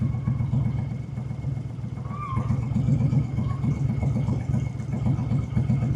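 Honda Fury motorcycle riding through a big city, its mid-pitched engine rumbling steadily and close throughout with a continuous low throb, no talk.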